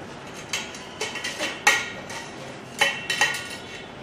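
A metal spoon working through a chunky dessert mixture in a bowl during a chef's masterclass, with a series of bright clinks and scrapes against the dish in quick irregular bursts.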